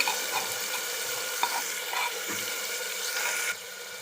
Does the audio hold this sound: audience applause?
no